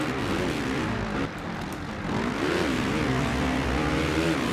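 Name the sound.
motocross bike engines in MXGP video game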